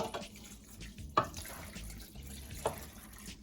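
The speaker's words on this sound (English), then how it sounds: "So I'm going to be adding a little water to it, not too much water" Water is poured into a pot of cooking Jamaican oxtail in a smokepot, a soft trickle and splash with two brief sharper pours, close and modest in volume, with no talking.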